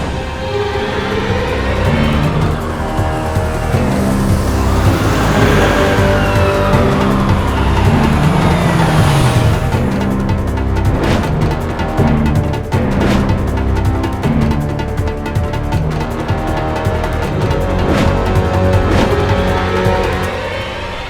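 A police car drives hard, its engine roaring and revving close by while tyres squeal and skid through turns, with loud dramatic music mixed over the driving noise.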